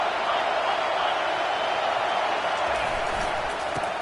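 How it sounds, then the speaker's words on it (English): A stadium crowd in an American football video game roars in a steady, dense wash of noise that fills the whole stretch. "Listen to this crowd just shaking the girders of this place trying to help their defense"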